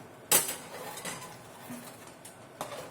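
Egusi soup with fried oshiki being stirred in a pot: a sharp metal spoon clack against the pot, then a few softer scrapes and knocks spaced out over a quiet kitchen background, with no talking.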